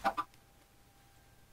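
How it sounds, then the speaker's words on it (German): A Minecraft chicken in a swamp area gives two short, soft clucks at the start, then near silence. "Kannst du mal das Huhn hier rüber schubsen?"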